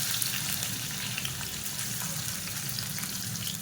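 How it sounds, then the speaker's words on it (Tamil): Sliced big onions frying in hot oil in a pan, a steady broadband sizzle with faint crackles, close and even throughout without any talk. "எண்ணெய் சூடானதும் பெரிய வெங்காயம் நீளமாக நறுக்குனதை ஒரு 2 கை அளவுக்கு சேர்த்துக்கலாம்."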